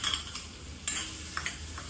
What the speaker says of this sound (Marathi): तेल थोडंसं गरम झाल्यावरती आपण त्याच्यामध्ये बारीक चिरलेला कांदा घालणार आहोत.